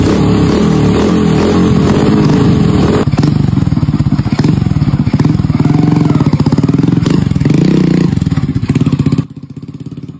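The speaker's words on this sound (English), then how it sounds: "we pour the plastic-derived gasoline into a motorcycle, and the engine starts perfectly" A motorcycle engine running on homemade pyrolysis gasoline made from plastic runs steadily up close with a rough, rapid putter and slight revving, then cuts off abruptly near the end.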